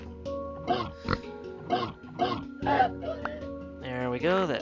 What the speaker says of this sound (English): Darn pig.